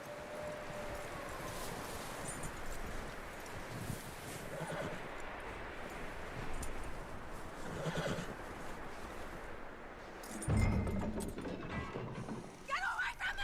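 A horse in the Red Dead Redemption 2 video game whinnies and snorts amid clip-clop hooves and mechanical game noise, with a dense, busy background throughout.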